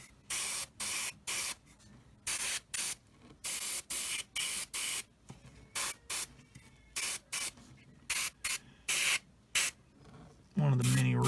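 Short bursts from an airbrush spraying paint onto a 1/35 Tamiya Sd.Kfz. 250/3 Greif model, repeated hissing pulses of about a second each with brief gaps, close and steady, ending with a low rumble.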